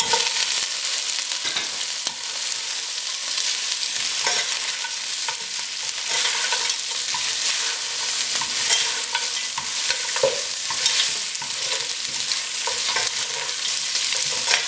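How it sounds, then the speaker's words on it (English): Lamb frying with browned onions in a pan for lamb pilau gives a constant, loud, close sizzle, broken by scraping stirs at intervals, with no voices. "We need to fry the lamb for a few minutes."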